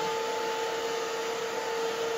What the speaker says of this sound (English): Always use a low setting on the blow dryer for curly hair.